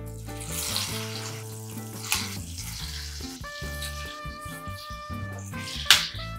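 Square pieces of kothimbir vadi deep frying in hot oil, giving a continuous bubbling sizzle with a few sharper splashes. A steady tonal hum and background music run beneath, and no one speaks.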